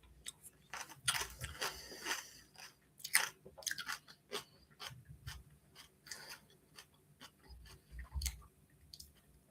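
Crunchy sour plum bitten and chewed close to the mouth, a series of irregular wet crunches and mastication sounds spread across the stretch with no talking.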